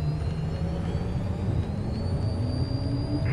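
A light airplane engine runs at full takeoff power as it rolls down runway 27, a steady loud drone with a whirring rising tone heard from inside the cabin, with no talk over it.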